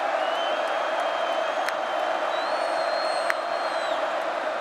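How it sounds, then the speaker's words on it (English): Football stadium crowd at the North Dakota vs. Kansas State college game roars steadily and loudly throughout, a dense sustained wash of cheering with scattered whistles and one brief sharp peak near the end. "This crowd making some noise."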